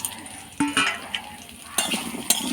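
Carrots and potatoes dropping into hot oil in a pan, giving a few sharp sizzling bursts with stirring and utensil clinks between them, close and fairly loud, with no voices.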